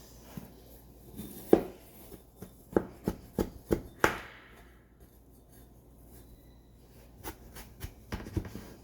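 A knife cutting through a homemade mango graham cake, with a handful of distinct taps and clinks against the dish, some scraping between them, close and fairly quiet.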